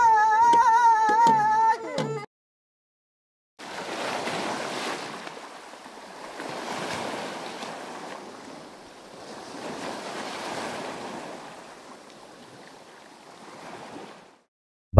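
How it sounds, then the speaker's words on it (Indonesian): Ocean waves roll and wash at sea in a steady broadband roar that swells and recedes over several seconds, after a brief burst of tonal music and a short silence. "Di antara deru ombak di tengah laut"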